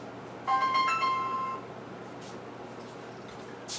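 A phone rings with an incoming call, a short melodic ringtone of clear tones lasting about a second, close by and fairly quiet in a room, followed by faint background noise.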